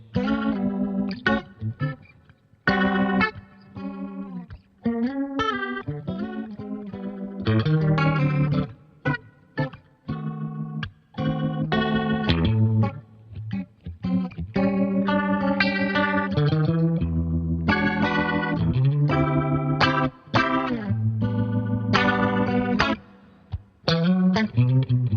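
Electric guitar through a Boss GT-1000 Rotary Blues patch, a loud, continuous run of bluesy phrases and chords with a swirling rotary-speaker chorus, gritty overdrive and light reverb, with brief pauses between licks.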